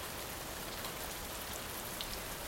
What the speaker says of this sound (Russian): Этот дождь никогда не кончится.